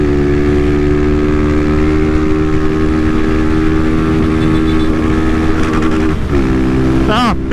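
Honda Titan 160 motorcycle from 2022, engine held high and steady near the rev limiter while riding at night, loud and continuous with dense harmonic drone throughout and a brief shifting whine near the end.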